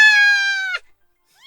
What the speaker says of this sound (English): Why are you holding a box of kittens, Naomi?